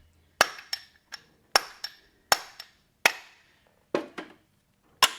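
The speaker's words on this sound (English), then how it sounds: "But these, I can loosen those nails up just by giving each nail a little pop here." Hammer tapping horseshoe nails on a horse's hoof to loosen them, a series of sharp metallic pops in small groups, close and clear with quiet gaps between strikes.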